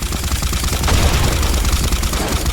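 Rapid automatic gunfire rattles loudly and continuously in a Call of Duty match, dense overlapping bursts close up with no speech.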